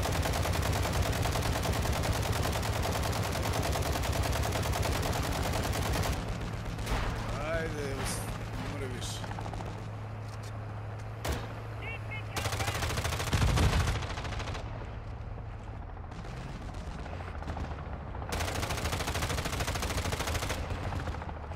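An RPK machine gun in 7.62x39 fires in a video game, loud sustained automatic bursts in long stretches separated by quieter gaps with scattered single shots, while someone talks.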